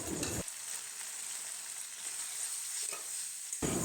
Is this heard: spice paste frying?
yes